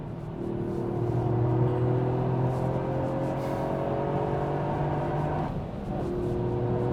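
A Toyota GR Yaris engine drives hard on a Nürburgring lap, a sustained whining drone with revs climbing steadily, then a brief gear-change dip before the tone settles again, heard from inside the car.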